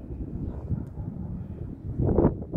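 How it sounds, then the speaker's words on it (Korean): Outdoor wind gusting in a sunny flower garden, a faint low rumble of buffeting on the microphone that swells toward the end, with no voices. "바람이 불어."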